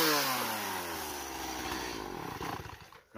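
A chainsaw engine whines and winds down with a falling pitch, then bogs into an uneven sputter before cutting off abruptly, fairly close and loud.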